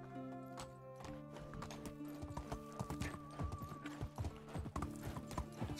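Horse hooves clip-clop in the medieval video game Medieval Dynasty, a quick, steady rhythm of close, crisp steps over a background of music-like tones, with a whinny-like sound and faint game ambience, no voices over it.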